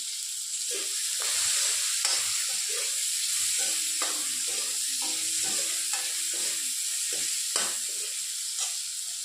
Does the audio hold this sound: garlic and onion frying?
yes